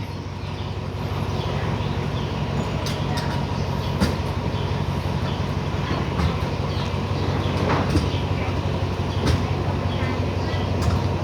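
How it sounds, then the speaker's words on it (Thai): Ordinary train 257 rumbles steadily across the bridge over the River Kwai in Thailand, a continuous heavy roll with occasional metallic clanks and clicks along the way. "รถไฟผ่านสะพาน"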